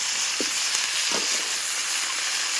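Chicken pieces dropped into a hot pan already holding chillies and tomatoes set off a loud, steady hiss of frying, with two soft thumps as the pieces land and no one talking.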